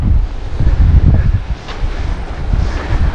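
Strong wind on an island beach buffets the microphone with a low, rumbling roar that swells and eases, with faint surf in the background.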